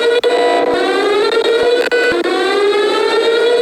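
A loud civil-defense-style alarm siren blares in a video game, a steady wailing tone with rising harmonics held for the whole stretch, broken only by a few brief clicks.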